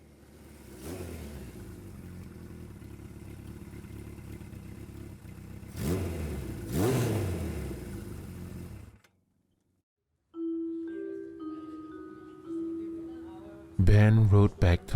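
Motorcycle engine revving and pulling away on an estate road, a mid-pitched growl that rises with two throttle surges and then cuts off abruptly, followed by a short silence and unrelated music in a narrated story.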